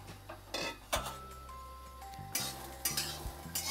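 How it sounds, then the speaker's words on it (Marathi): Fresh green peas roasting in a hot kadhai, stirred with a spatula that scrapes and clinks against the pan in short bursts over a soft background sizzle, with a faint steady hum beneath. "हे बघा असे वाटाणे भाजलेले आहेत, एकसारखे हलवायचे"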